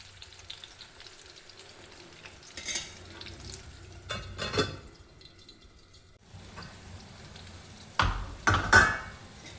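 Potatoes frying in oil in a pan for a spicy potato curry, a low quiet sizzle broken by several louder bursts of stirring and clattering against the pan.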